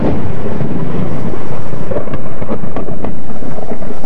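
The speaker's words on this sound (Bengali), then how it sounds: "বাইরের বৃষ্টির শব্দের সঙ্গে বাজ পড়ার শব্দ ঘরের ভেতর থেকেই শুনতে পাওয়া যাচ্ছে।" Steady rain with low rumbling thunder, heard from indoors, loud and continuous without pause, with no voices.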